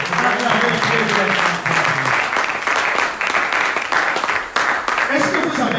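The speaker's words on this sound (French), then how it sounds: "Non, acclamez très bien, s'il vous plaît, acclamez très bien." Audience applause in a church, dense continuous clapping that fills the whole stretch at steady loudness, with voices mixed in.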